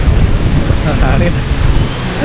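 Strong seaside wind roars steadily against the microphone as a loud, broad rumble, and a voice is faintly present underneath.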